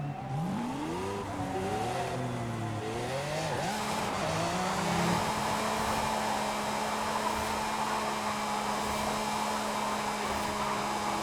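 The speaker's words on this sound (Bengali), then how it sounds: "আমরা একটু ডোনাট দিই, দেখি এটা কেমন ডোনাট দিতে পারে।" A Lamborghini doing donuts on a race track, the engine note climbing and dipping as it revs, then settling into a steady high whine with tire noise underneath.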